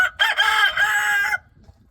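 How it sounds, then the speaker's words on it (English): Beetlejuice, the lead homestead rooster, crows once loudly and close by, a drawn-out cock-a-doodle-doo of a little over a second with a rough opening note that then cuts off into near quiet. "That there is Beetlejuice making all that noise."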